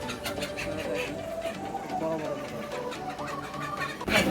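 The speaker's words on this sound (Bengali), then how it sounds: "এগুলা পাহাড়ি মোরগ, অনেক বড় বড় পাহাড়ি মোরগ।" Large hill roosters cluck and murmur at a busy market, a cluster of soft repeated bird calls under a constant crowd hubbub, closing with a sharp louder burst.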